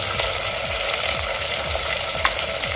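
Chickpeas go into vegetables frying over a low gas flame for bhogichi bhaji, raising a steady, dense sizzle with scraping stir strokes throughout and no voices.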